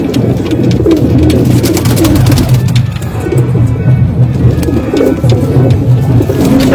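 Malwai pigeons cooing continuously in low, throaty, rolling calls, many birds close by and loud, with faint background noise throughout.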